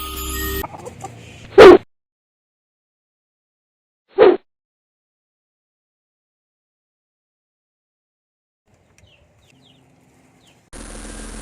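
Native free-range chickens near a coop give a few brief squawks and clucks, close and fairly loud, separated by long silent gaps before farmyard noise returns at the end.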